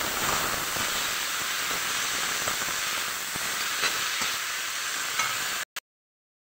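Leafy greens hitting hot oil in a pan, a loud steady hiss and sizzle that runs for about five seconds, then cuts out abruptly into silence.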